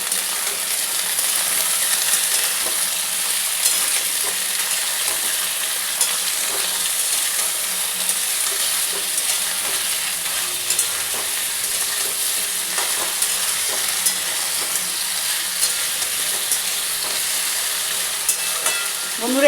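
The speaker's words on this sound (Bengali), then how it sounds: "আলুগুলো দিয়ে দিই ভালো করে আলুগুলো ভেজে নিই" Potatoes frying in a pan for a Bengali poppy-seed vegetable dish, giving a steady dense sizzle and hiss with faint scattered stirring clicks throughout, no voices.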